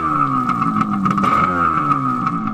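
A jet ski engine idles steadily while a BluThru adapter flushes it, giving a continuous loud droning hum with a faint wavering pitch and no talk over it.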